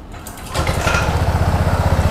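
A Honda ADV 160 scooter engine cranks and catches about half a second in, then settles into a steady, close, rhythmic putter at idle, loud and clear with no voices.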